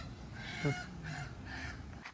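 A chicken gives a few short honking calls up close, a loud squawk followed by two softer ones, with no talking.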